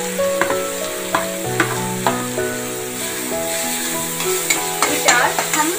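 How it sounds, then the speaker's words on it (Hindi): Chopped onions fry in oil with whole spices, two black cardamom pods and cinnamon, for chicken tikka masala. A steady sizzle runs throughout, with repeated stirring scrapes, and faint tonal background music sits underneath. "उसके बाद हम इसमें जो हमने प्याज काट के रखा है उस प्याज को हम डाल देंगे।"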